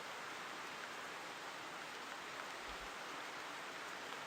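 Rain falls in the hunting video game The Hunter as a steady, even hiss of drops that never lets up. It stays soft and constant throughout, with no voices.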